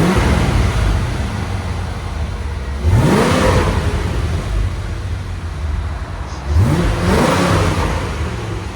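A 1990 Chevy Corvette with a stock 5.7L tuned-port-injection V8 and stock exhaust revs loudly twice, each blip rising sharply then falling back to a steady rumbling idle, close and with no talking.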